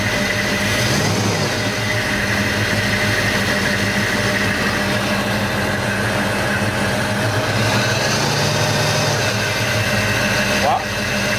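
A Chevy C10 engine with a new Edelbrock AVS2 carburetor runs loud and close after sitting for years, a steady rough hum that rises only slightly in a brief, gentle rev.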